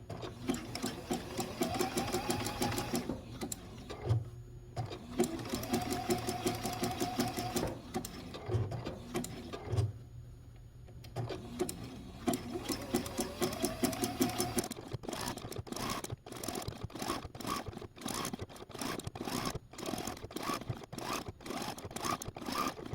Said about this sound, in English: Now since this is all on top, I will start with a stay stitch and I'll also end with a stay stitch.